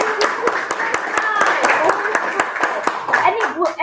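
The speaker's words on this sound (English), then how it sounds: "Everyone, please give a big applause for Gwen." An audience at a Toastmasters club meeting in a hotel claps in a lively burst of applause, hands smacking steadily with a few stray voices and light laughter mixed in.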